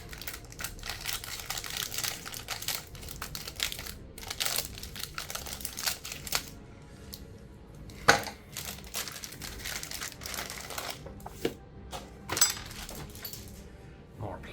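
Plastic magazine packaging is cut open and unwrapped by hand, giving close, irregular crinkling and crackling with sharp snaps and rustles for around fifteen seconds.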